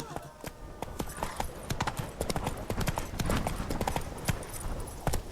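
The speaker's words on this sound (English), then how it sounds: "Run, Roach." Roach, the horse in The Witcher 3: Wild Hunt, gallops with fast, loud, rhythmic hoofbeats clopping close up, with a voice speaking briefly under the steady run.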